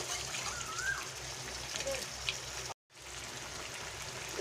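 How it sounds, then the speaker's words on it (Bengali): Water is poured into chicken chaap cooking in a pan, giving a soft, continuous trickling and splashing hiss with a brief dropout partway through, fairly quiet and close. "এবারে আমি এর মধ্যে জল দিয়ে দিচ্ছি মাংসটা সেদ্ধ হওয়ার জন্য"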